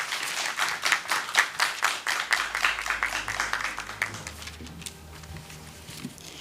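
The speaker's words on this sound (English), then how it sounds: "Let's have another round of applause." An audience at a national tourism debate final applauds after a speech, with dense, steady clapping that thins out and fades over the last couple of seconds.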